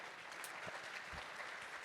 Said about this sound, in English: please give them a big round of applause for today's